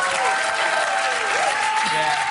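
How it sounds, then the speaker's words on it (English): A studio audience at a daytime talk show boos loudly and steadily, a dense sustained crowd roar, while a voice talks over it. "Who's booing who now"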